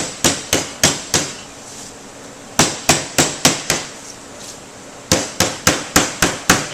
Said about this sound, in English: take your hammer, come back, and just gently beat down on it